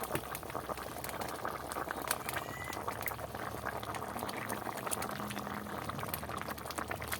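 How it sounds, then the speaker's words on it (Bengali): Water boils hard in a cooking pot for steamed eggs, a continuous close bubbling and rushing that stays even throughout. "জল ফুটে উঠছে"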